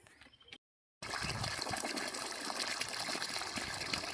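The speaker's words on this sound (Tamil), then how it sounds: "21 ஹெர்ட்ஸில் இவ்வளோ தண்ணி நமக்கு எடுக்குது" Water gushes steadily from a solar-powered pump running at 21 Hz under a Textro solar controller, a loud continuous splashing flow that follows a brief quieter stretch and a moment of silence.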